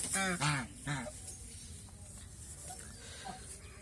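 Ducks give a few loud, close quacks in a quick burst at the start, followed by quieter, sparser calls over steady low background noise.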